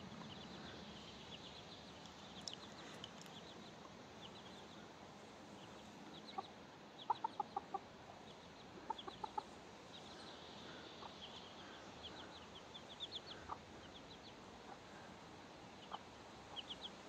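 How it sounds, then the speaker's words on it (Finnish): A hen and her chicks in a flowerbed give soft clucks and high peeps, scattered and intermittent over quiet outdoor background, fairly close but faint. "Tämmöistä on kanan perhe-elämä."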